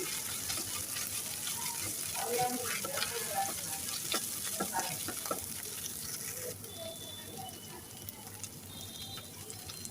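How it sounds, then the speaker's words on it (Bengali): Garlic, ginger and cumin paste fries in a pan with a steady, close sizzle, overlaid by scattered scraping stirs in the middle stretch, while a low background hum continues throughout. "মশলাটাকে কিছুক্ষণ নেড়ে চেড়ে কষিয়ে নেব আমি"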